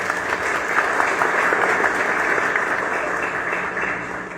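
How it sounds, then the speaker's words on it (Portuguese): Audience applause at a formal ceremony and book launch for a Banco do Brasil branch anniversary, a steady wash of clapping from a seated crowd that gently tapers off. "Um aplauso."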